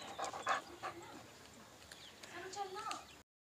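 A dog pants and shuffles close by during a home birthday and Christmas celebration, its quiet breathing mixed with people talking in the background.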